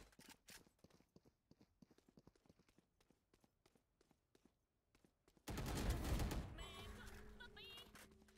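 Footsteps in the video game Valorant, a steady run of short, rhythmic steps at moderate loudness, cut off halfway by a sudden loud, dense burst of game noise that continues to the end.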